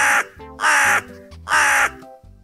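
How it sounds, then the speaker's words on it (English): A crow caws three times, loud and close, each harsh call spaced evenly about half a second apart, with no talking. "Where is the crow?"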